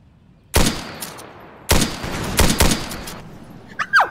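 Gunfire in the Roblox war game: several loud, close shots come in irregular bursts over about four seconds, each with a decaying tail, and a short whistling tone sounds near the end.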